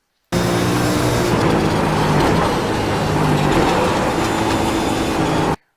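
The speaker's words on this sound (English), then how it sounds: "We're going to lift, then downshift into 5th and 4th for the" Race car at Mosport circuit lifting and downshifting into fifth then fourth gear for a right-hander, a steady loud in-car engine drone filling the clip without talk.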